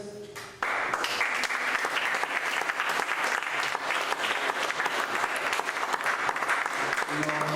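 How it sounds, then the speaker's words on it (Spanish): A church congregation at a retreat in Capdepera breaks into applause, starting abruptly and holding as a dense, steady, even clatter of many hands. "Un aplauso por ustedes"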